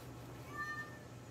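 A cat gives one faint, drawn-out meow in a video playing in the background, thin and quiet over steady low hum.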